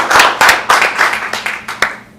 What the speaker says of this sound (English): And you deserve a round of applause for